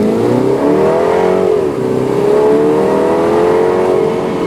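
A 2019 MINI Cooper S Countryman ALL4 engine pulls hard under acceleration, its loud steady drone rising in pitch, dipping briefly at a gear change, then climbing again from inside the cabin.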